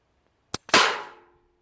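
A pre-charged pneumatic air rifle, a Weihrauch HW100BP or Daystate Renegade, fires at an outdoor target: a short mechanical click followed by a sharp, loud report that decays quickly, heard alone.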